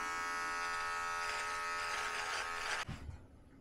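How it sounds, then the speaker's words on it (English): An electric body hair trimmer, a Lumberjack model, buzzes steadily and close for nearly three seconds while trimming hair, then cuts off abruptly with a brief handling clatter. "we are going to trim it down because we are going to shave down"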